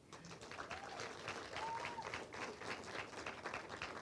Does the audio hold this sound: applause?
yes